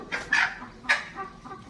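Multicoloured egg-laying hens cluck close by in a few short bursts, two louder clucks followed by softer trailing calls with no talking.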